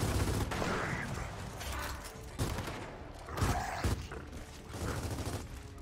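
Rapid gunfire in the third-person shooter Gears of War 4, bursts of fast shots in repeated loud volleys with brief gaps between them.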